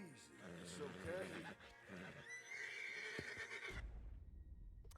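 A horse in the Red Dead Redemption 2 video game lets out a loud, close whinny and snorts, with hoof clops and game sounds, while voices talk over it.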